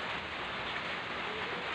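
Steady rain during typhoon season with monsoon flooding, a continuous even hiss of falling water throughout, moderately loud with no voices.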